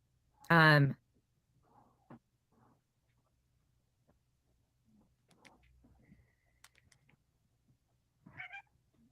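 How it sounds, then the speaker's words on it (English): A house cat lets out a single loud, close meow right at the start, followed by near silence broken only by faint, scattered ticks and soft rustles. "There's the cat."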